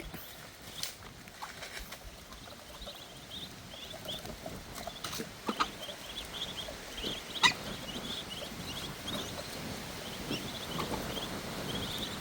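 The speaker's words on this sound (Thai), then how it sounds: "อันนี้ก็เป็ดน้อย" Faint, high peeping chirps repeat from small ducklings against a quiet outdoor background, with soft scuffling and patter nearby.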